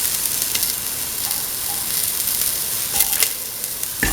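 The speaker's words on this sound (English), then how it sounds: "Mix the chili and the garlic together." Chili and garlic fry in a pan and are stirred together, making a loud, continuous sizzle with some scraping and crackling toward the end.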